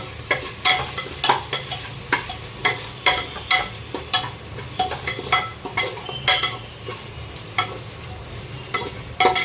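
Dal khichdi is stirred in a hot pan, a spoon scraping in steady repeated strokes over a constant background sizzle, close and alone without talk.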